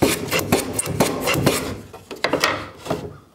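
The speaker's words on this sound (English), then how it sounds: "Chamfer the ends." Wooden deck chair slat ends being chamfered by hand, a series of rasping, scraping strokes in an uneven rhythm, close and fairly loud, with no talking.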